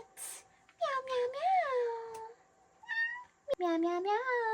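A person playfully imitates a cat, meowing several times in high, sliding squeaks with short pauses between.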